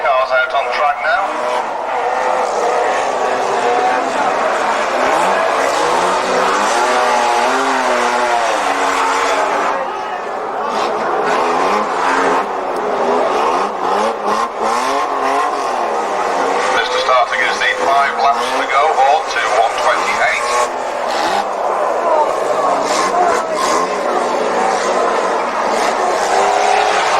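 Banger racing cars at Warton circulate on the track, engines droning loudly and continuously with occasional revving and tyre noise, while a commentator talks over the racket throughout.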